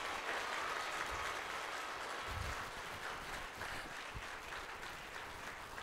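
A packed hall at a community annual meet breaks into applause, a continuous, fairly distant roar of many hands clapping at an even level.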